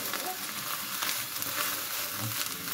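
Eggplant pieces fry in hot oil in a pan, producing a dense, continuous crackling sizzle at steady loudness throughout.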